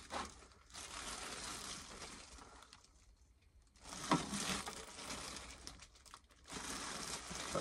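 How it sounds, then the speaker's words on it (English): Plastic wrapping being slid off a parcel, loud crinkling and rustling in long bursts with a brief quieter pause in the middle, close by and without talk. "Sounds like it's long because that plastic took a long time to slide off."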